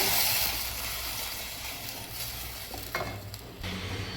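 Ground chili paste sizzles and fries in a pan for mushroom gravy, a steady close hiss with occasional stirring scrapes and clatter, no voices.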